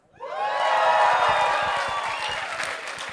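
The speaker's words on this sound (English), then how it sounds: "Can we have a big round of applause or shout out for Peter Ebbs?" Audience at a university MBA talent show breaks into loud applause with cheering and whoops for a favorite professor, a dense, sustained burst of clapping and shouting that swells quickly and holds.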